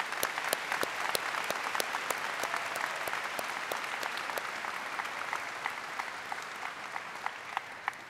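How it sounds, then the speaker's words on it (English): An audience applauds the platform party at the College at Brockport 2016 undergraduate afternoon commencement ceremony, a steady sustained wash of many hands clapping at moderate distance, with no voices over it. "Let's have a round of applause for our platform party."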